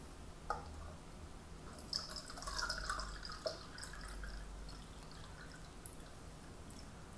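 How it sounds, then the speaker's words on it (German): Water is filled into a cone-shaped container for a volume demonstration, with faint, scattered drips and small splashes and a soft trickle in a quiet room. "Und dazu werde ich diesen Kegel zuerst mit Wasser füllen."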